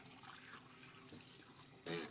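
Faint water rinsing and running out of a film developing tank, a soft, steady trickle ending in a brief louder splash.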